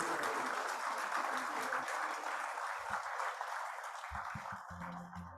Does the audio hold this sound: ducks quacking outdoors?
no